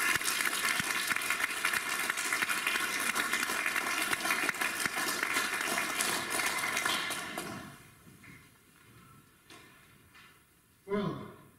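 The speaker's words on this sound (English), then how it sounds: "give them a round of applause" Audience at an Erasmus project event at a school in Lübbecke claps in a dense, steady burst for about seven seconds, then it fades to quiet room noise with a single brief knock near the end.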